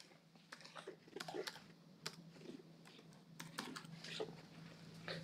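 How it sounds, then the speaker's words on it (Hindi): Rapid, uneven keystrokes on a computer keyboard as a PAN card number is entered into an online insurance form, close and fairly quiet, with short bursts and brief pauses and no voice over them. "पैन कार्ड नंबर को यहाँ पे मैं टाइप कर देता हूँ।"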